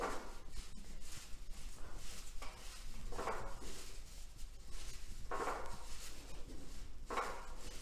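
Soft scraping and clinking of a utensil mixing flattened rice (avalakki) with a cooled oil tempering in a bowl, repeated strokes at an uneven pace, fairly quiet.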